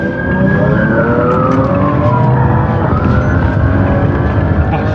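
A car speeding away from a police traffic stop, its tires squealing in long sliding wails over a loud, continuous engine roar that stays close throughout.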